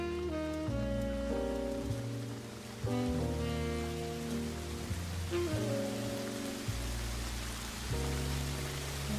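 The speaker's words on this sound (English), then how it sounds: "it sounds like it's raining" Steady rain in a village-building game, a constant hiss spread evenly beneath layered music with held tones, continuing without a break from start to finish.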